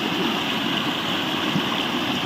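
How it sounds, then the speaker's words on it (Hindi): A small waterfall in a forest rushes steadily nearby, a constant loud hiss of falling water with no pauses or voices. "और ये छोटा सा झरना"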